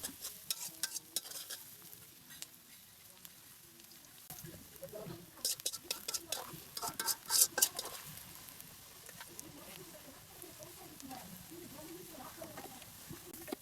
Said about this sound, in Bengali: এখন আমরা চিংড়ি মাছগুলো রান্না করার জন্য পেঁয়াজগুলো ভালো করে ভেজে নিব।